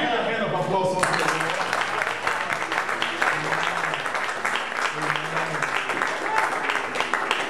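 A church congregation applauds, with dense sustained clapping that swells after the first second and holds loud throughout, mixed with some voices.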